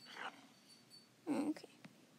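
A husky pup in an arctic sim video game gives two short, high whimpering cries, the second louder and slightly longer, followed by a couple of faint yips, close and clear over a quiet background.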